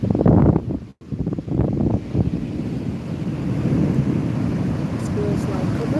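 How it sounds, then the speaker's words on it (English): Ocean waves wash onto a beach amid gusting wind, a rough, rushing roar with heavy wind buffeting the microphone, steady and close, under low voices. "Y'all get ocean, ocean, ocean."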